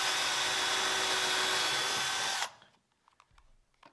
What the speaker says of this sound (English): just drill a pilot hole through the first piece like this